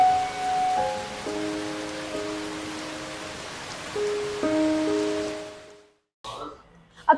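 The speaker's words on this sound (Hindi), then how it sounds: "तब तक आप ये इंजॉय कर सकते हैं बारिश।" Steady rain falls outside a car detailing studio that coats vehicles, a broad hiss running under a few sustained tonal notes before it cuts to silence and a brief, louder burst of different noise at the very end.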